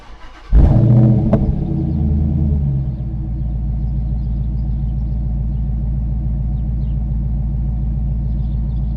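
A Dodge Charger R/T HEMI V8 fires up with a loud burst, then settles into a deep, throbbing exhaust rumble that continues steadily, recorded close to the tailpipe at the back bumper.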